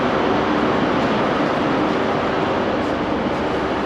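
A train at the low-level platforms of Glasgow Central station gives a continuous loud broadband rumble and rush that stays steady throughout, with no voices.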